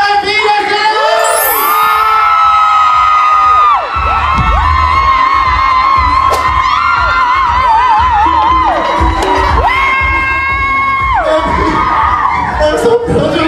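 A live audience at a drag race rewatch party cheers, whoops and screams nonstop for a performer, loud and close, with a host's amplified voice and shrill yells rising over the roar.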